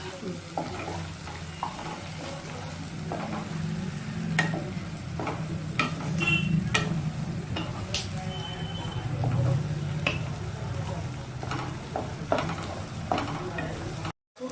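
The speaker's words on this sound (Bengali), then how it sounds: "দইটা দিয়ে এবার আমি আরো কষে নিচ্ছি।" Fish fried with yogurt in a pan, stirred steadily through a constant loud sizzle with scraping strokes of the spatula and occasional clinks. The sound is close, with faint background noise and no clear speech.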